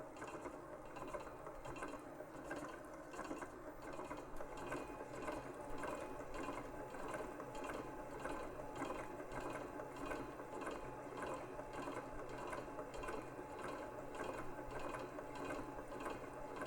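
An electric mixer beats butter cake batter at speed 4, giving a constant whirring, rattling mechanical drone with an even texture that runs unbroken and fairly close, with no voices.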